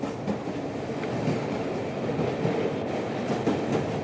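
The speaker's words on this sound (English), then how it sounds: "On the train to Edinburgh" Train running on rails toward Edinburgh in the 1970s, a steady loud rumble with faint rhythmic clatter of wheels throughout, no voices.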